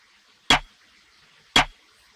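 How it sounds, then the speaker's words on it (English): An alternate trap snare pattern from a UK drill beat built in FL Studio: two short, sharp snare cracks about a second apart, dry and isolated over near silence. "I also have a different snare pattern as well, just add a bit of variation."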